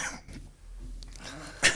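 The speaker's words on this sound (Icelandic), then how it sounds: "aðeins hósta." A single sharp cough bursts out near the end, close and brief, after a quiet stretch of soft room noise and a faint throat sound at the start.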